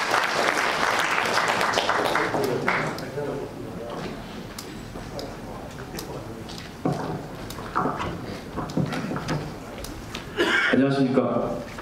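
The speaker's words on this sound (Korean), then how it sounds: "박수로 환영해 주십시오." Seminar audience applauding to welcome a Hanwoo cattle farmer as he comes up to speak, a steady wash of clapping through most of the stretch with some talk and chuckles mixed in, louder bursts near the end.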